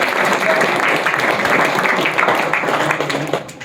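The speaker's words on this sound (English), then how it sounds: "Please clap." An audience at a school event breaks into sustained applause, dense clapping from many hands filling the room steadily before tapering off at the end.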